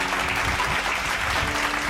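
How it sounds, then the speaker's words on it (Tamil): A church congregation claps hands during a sermon, two seconds of steady, evenly dense applause from many people filling the room. "கைத்தட்டுங்க ஒரு தடவை அவருக்கு."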